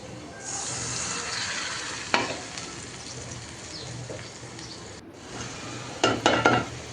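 Small fish with spices sautéing in a pot, a steady close sizzle with occasional sharp spatula knocks and a cluster of scraping clatters near the end.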